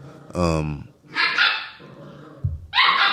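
A dog barks nearby in short, loud bursts, a yip followed by a couple of deeper barks, while someone talks between them.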